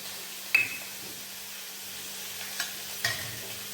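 A South Indian rasam tempering of curry leaves, dried chillies, cumin and pepper sizzles softly and steadily in hot oil, faint and close, broken by a few sharp clinks of a utensil.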